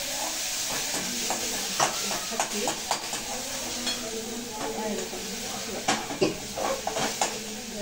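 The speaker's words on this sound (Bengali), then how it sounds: "এবার কষাবো, দেখতে থাকুন।" Spice masala being sautéed in a pan, a steady sizzle under repeated scraping and clinking strokes of a spatula against the metal, close and moderately loud.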